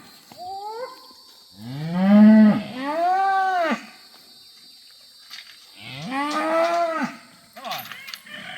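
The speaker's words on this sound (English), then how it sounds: "There's some happy cows." Cows on a farm mooing in long, loud, drawn-out calls, three main bellows with pauses between and a shorter call at the end, close by over faint background noise.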